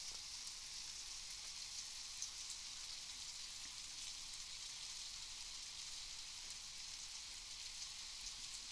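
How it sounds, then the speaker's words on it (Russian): Rain falling steadily during a fishing trip, a soft continuous patter and hiss of drops on surfaces, faint and even throughout with no talk. "Несмотря на дождь,"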